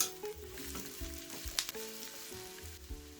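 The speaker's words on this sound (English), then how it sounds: "Saute this for a minute." Chopped onions, carrots and peppers sauté in about a tablespoon of hot vegetable oil in a pan, giving a close, continuous crackling sizzle with occasional stirring clicks and no talking.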